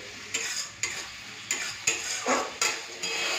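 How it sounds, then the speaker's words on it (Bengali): Spice masala frying and being stirred in a kadai for a cauliflower and potato curry, steady close sizzle broken by repeated scraping stir strokes roughly every half second, no talk. "এরপরে মশলাটাকে একটুখানি কষে নিই"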